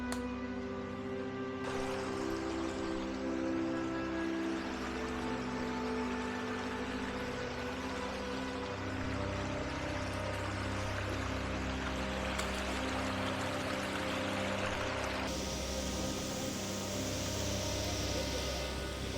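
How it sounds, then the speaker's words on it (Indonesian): Steady rushing roar of a waterfall, a curug in the Baduy area of Kanekes village, fills the whole stretch with continuous broadband water noise, with faint traces of voices in the background. "Ini adalah curug pertama yang kita temui."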